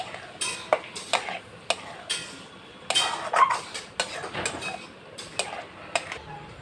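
Previously fried potatoes are stirred into masala in a pan, giving a series of close, irregular scraping and clinking strokes of a utensil against the pan over a faint background sizzle, with no talking.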